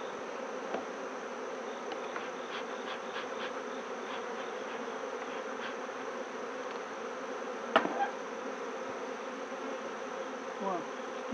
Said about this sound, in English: More bees in there.